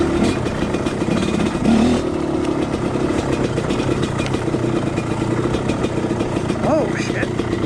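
Dirt bike engine running loud and steady while riding a trail, a continuous close mid-range drone with slight revving changes, and a rider's voice talking over it.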